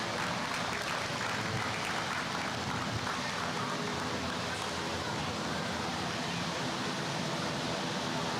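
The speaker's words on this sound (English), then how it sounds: "Let's give him all another big round of applause." Steady crowd applause at a beef cattle 4-H show, a continuous dense wash of clapping that holds evenly throughout without pause.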